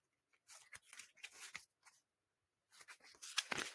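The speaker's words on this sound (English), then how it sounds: "Let's shuffle these again." Soft papery riffling and flicking of tarot cards being shuffled, in two short bursts separated by a brief pause, close and quiet.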